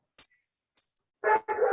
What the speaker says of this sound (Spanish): denme un segundo que está la perra ladrando